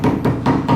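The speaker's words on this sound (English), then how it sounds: "We hammer it to break it down, to break the fibers on the side." A hammer beats a papyrus stalk to break down its fibers, four fairly loud, dull thuds in an even rhythm close by, with no talking over them.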